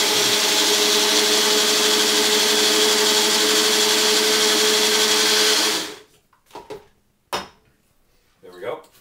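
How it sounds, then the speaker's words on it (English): A Magic Bullet style blender whirs loudly and steadily for about six seconds while mixing a chocolate shake, then cuts off, followed by a few clicks and clatters of the cup. "I don't know if you have a Magic Bullet style blender, but it's really convenient."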